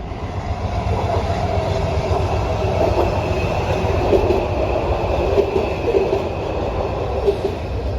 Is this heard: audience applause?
no